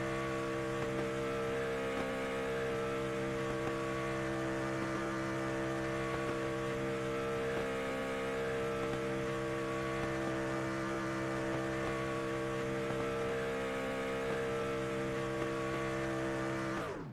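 A race truck engine in a racing video game drones at high, steady revs during burnouts, a loud sustained harmonic roar that holds for the whole stretch before cutting off abruptly at the end.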